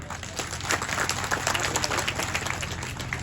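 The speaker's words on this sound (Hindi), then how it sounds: "ताली बजाइए।" An audience seated before a large stage at a political speech event claps together, a dense, even wash of applause that holds steady for several seconds beneath a low hum.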